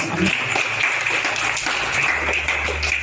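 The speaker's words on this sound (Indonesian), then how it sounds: "Tepuk tangan untuk Tuhan Yesus." Congregation clapping for Jesus during a church testimony, a dense, continuous applause from many people at moderate loudness with a low hum underneath.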